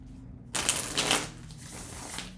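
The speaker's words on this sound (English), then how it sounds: "Let me shuffle these and we'll get into your tarot." Cards being shuffled, a crisp rapid riffle that starts abruptly and continues as a steady papery flutter, close by.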